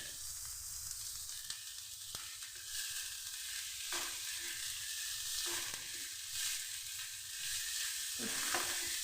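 Grated cauliflower sizzles and fries steadily in a hot pan, with intermittent scraping and stirring strokes cutting through the continuous hiss, close and fairly loud with no talk.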